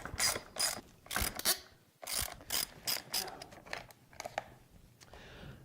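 Motocross bike hand guards being removed with Allen wrenches, a series of close, quick clicking ratchet-like turns and metallic taps in irregular bursts, fairly faint with no clear talk.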